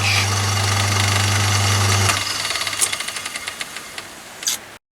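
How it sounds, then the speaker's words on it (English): Myford ML7 lathe spindle, driven through a Fenner link belt with no clutch, runs with a steady loud hum, then winds down quickly after the lever is released, ticking and clicking more slowly as it coasts to a stop. "As soon as I release the lever, the lathe spindle stops"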